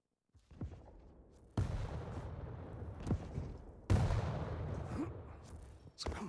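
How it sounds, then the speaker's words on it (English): Railgun shots in a Quake Pro League match: sharp cracking blasts, two prominent loud hits among scattered smaller shots and arena noise, with no one talking. "Actually hits lovely Rail from down below, forcing Tox away"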